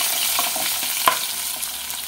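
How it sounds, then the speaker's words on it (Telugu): Onions frying in a pan with fenugreek seeds as they are stirred, a close, even sizzle with one sharp clink of a spoon midway and faint scraping, without any voices. "ఉల్లిపాయలు వేగుతున్నాయండి"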